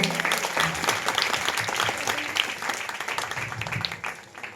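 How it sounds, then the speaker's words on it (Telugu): Congregation at a Catholic street prayer for St. Anthony clapping loudly, a dense, sustained burst of applause from many hands that runs the whole time before easing slightly at the end. "సో ఫాదర్ గారిని బట్టి దేవునికి స్తోత్రాలు చెప్తూ గట్టిగా చప్పట్లు కొట్టండి"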